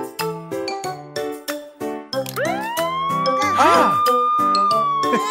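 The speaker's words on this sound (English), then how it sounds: "All police cars have sirens and lights." A cartoon police car siren sounds within a children's sing-along song, with rising and falling wailing tones sweeping over bright music and chimes in the second half, loud and close, after a short exclamation.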